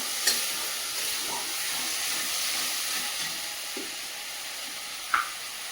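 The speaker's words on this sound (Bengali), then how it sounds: "মশলাটা ভালো করে ভেজে নেব।" A paste of green chili, ginger, garlic and onion, with chopped tomato, sizzles steadily in a hot pan, a continuous close hiss broken by a couple of light stirring knocks.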